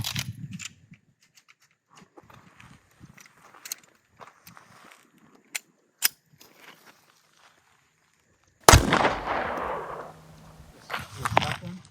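A Colt 1903 pistol fires a single loud, sharp shot at body armour with a ringing decay, after a long quiet stretch of small handling clicks and shuffles.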